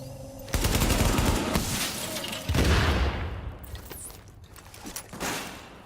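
Heavy gunfire in the video game The Division, shotgun blasts among rapid bursts, loud and dense for several seconds, then thinning into scattered shots and mechanical clatter.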